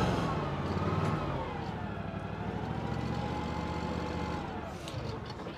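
The engine of a 2009 Kubota ZG327 commercial zero-turn mower runs steadily at a fairly loud, constant drone, with a faint whining tone drifting over the engine note.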